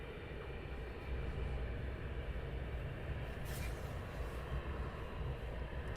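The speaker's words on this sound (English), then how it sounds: "Next we have two EasyJets taxiing down." Two EasyJet airliners taxi at Luton Airport in the early morning, a steady low engine rumble and whine that stays even and fairly distant for the whole stretch, with no voices.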